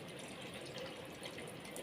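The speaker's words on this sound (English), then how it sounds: "So you need to add more water." Water pours steadily into a cooking pot for a curry, a continuous broadband splashing and gushing that runs unbroken and fairly close throughout, with no voices over it.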